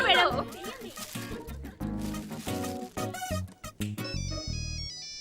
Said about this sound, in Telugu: అటెండ్ చేయండి మేడం, అటెండ్ చేయండి. ఫోన్ మీకే వచ్చింది.